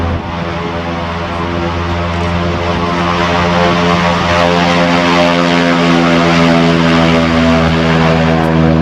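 Gene Soucy's air show propeller plane roars steadily through a takeoff, a loud, sustained engine drone with strong harmonic tones and no pause or voices.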